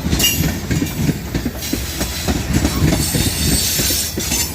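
A northbound coal train of empty cars rolls past close by in fog, a steady heavy rumble with rhythmic clacking of wheels over rail joints and occasional metallic squeal.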